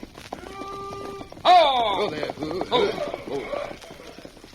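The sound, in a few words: horse hooves, rider approaching on horseback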